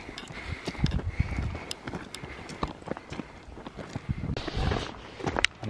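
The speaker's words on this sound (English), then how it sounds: "A donkey." A donkey walks past on a rocky mountain path on Snowdon, its hooves clip-clopping in an uneven run of close, sharp knocks over outdoor wind and background rustle.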